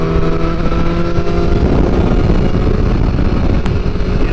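A 2022 BMW S1000R motorcycle being ridden, its engine droning steadily and loudly under heavy wind rush, with a brief sharp click near the end.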